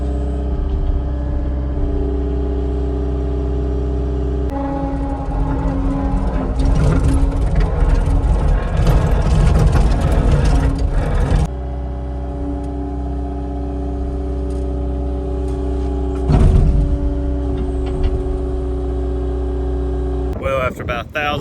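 A heavy skid steer engine runs loudly and steadily, its low drone rising into rougher revving for a few seconds before settling back to idle.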